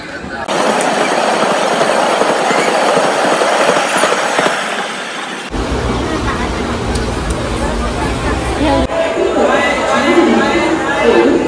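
A train arrives at a railway platform with a loud, continuous rumble and rolling rail noise, with clattering wagons and crowd chatter mixed in throughout.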